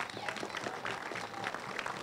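Audience applause at a school ribbon cutting ceremony honoring staff, a steady wash of many hands clapping at moderate distance, evenly sustained throughout with faint crowd murmur mixed in.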